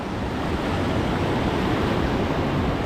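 A continuous loud rush of a swollen mountain river's floodwater fills the scene, steady and unbroken, with no voices.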